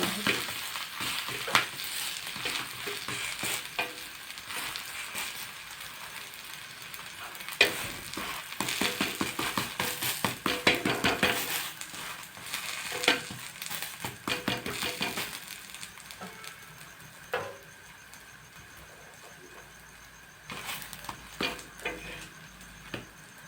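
Layered wheat-flour paratha fries in oil on a tava over medium heat, with a continuous sizzle and bursts of scraping and flipping that come and go.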